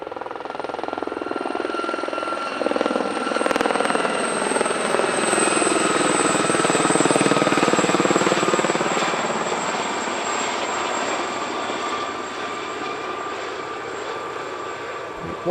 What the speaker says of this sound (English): They are by far the largest civilian helicopter display team in the world